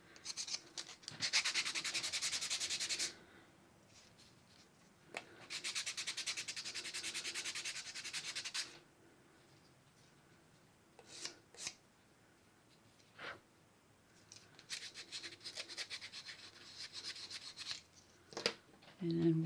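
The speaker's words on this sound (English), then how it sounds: "And we want to use the rough side. We don't want to sand this thing to be smooth." Polymer clay being roughed up with the coarse side of an emery board, making bursts of dry scratchy rubbing, two long strokes then shorter intermittent scrapes, close and fairly quiet, with no talk.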